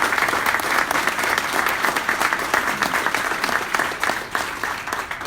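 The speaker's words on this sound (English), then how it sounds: "Let's give them a round of applause" Audience applause at a ceremony for a Small Business Advocate Award presented to an Aurora mayor, a loud, sustained wash of many hands clapping close by, steady for the whole stretch.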